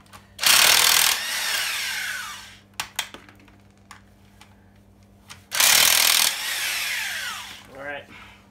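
A power tool, likely an impact wrench, spins bolts off a 7.3 IDI diesel engine during teardown, two loud whirring bursts of about two seconds each, separated by metallic clinks and handling noises close by.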